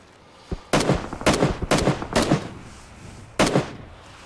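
Gunshots in the battle royale game PUBG: five sharp reports, four in quick succession and one more after a pause, each loud and close, with a brief blast ringing out and no talk over them.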